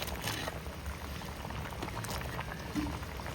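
Prawn curry bubbles at a rolling boil in a pot, giving a close, continuous gurgling simmer with soft bursting bubbles and no talk.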